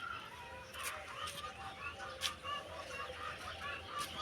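Chickens clucking faintly outdoors among young plants at a rural home, with short, scattered calls at a distance against a quiet background.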